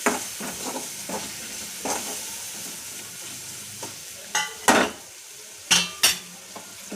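Tomatoes stirred and fried in a pan for a rustic Maharashtrian besan dish, heard as soft scraping stir strokes over a low sizzle, with a few sharp utensil clanks against the pan near the end.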